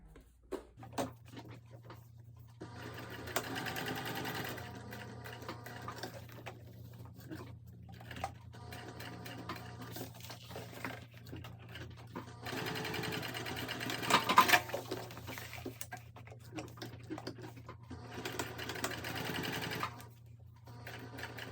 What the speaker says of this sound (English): now I'm just gonna top stitch up my straps here across and then back down